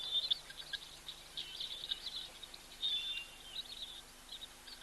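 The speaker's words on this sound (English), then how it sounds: "Oh, you can hear the guinea fowl. Sounds like a rusty wheelbarrow being pushed." Guinea fowl calling in the African bush, a series of thin, creaky, squeaking bursts that repeat irregularly at a moderate distance over a low, quiet background hum.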